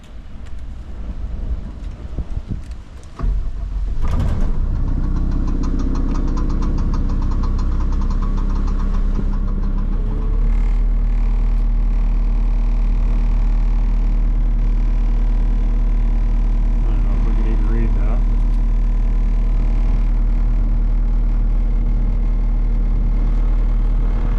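A Case SR240 skid steer loader's diesel engine rumbles for the whole stretch. After a few seconds of starting noise it settles into a loud, steady idle with a low, knocking throb.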